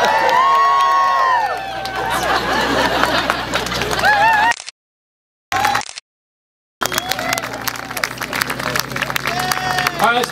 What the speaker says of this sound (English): Let's get a big round of applause for everybody involved in the flight